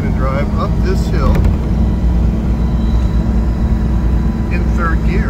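A 1933 Lincoln KB with a 450 cubic inch V12 engine climbs a hill in third gear with a loud, continuous low rumble, while someone talks over it.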